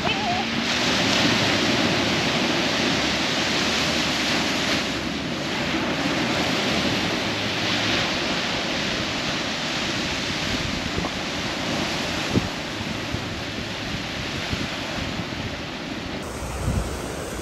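Ocean waves on a beach in Barbados make a loud, steady roaring surf, close to the microphone with constant wind buffeting, and no clear voices over it.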